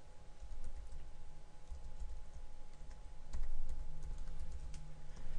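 A computer keyboard typing a layer name in Unity 3D, a brisk run of soft, close key taps over a faint steady hum, with no speech.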